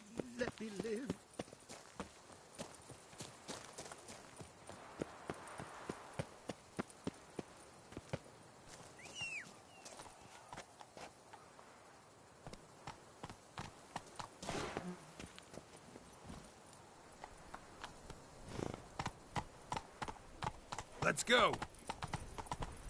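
Roach the horse galloping in The Witcher 3, a fairly faint, rapid clip-clop of hooves running on and on beneath spoken dialogue and game sounds, with a brief shout.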